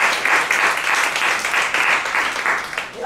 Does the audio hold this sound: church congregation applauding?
yes